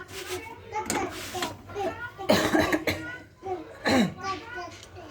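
Several harsh coughs from a cold in quick bursts, with a voice and background chatter in between.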